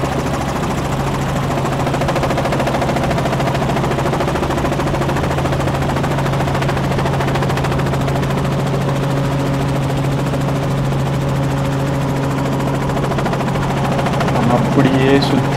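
A tour helicopter flying over a Top End safari camp gives a loud, constant rotor and engine drone heard from close range, steady throughout with no pause.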